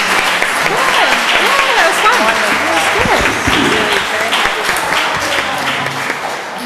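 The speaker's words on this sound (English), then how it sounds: "I'm going to ask for another round of applause for Lori Conway standing in for her husband" An audience applauds at the close of a political lecture at the Boston Public Library, a sustained dense wash of clapping filling the hall, with voices and calls mixed in throughout.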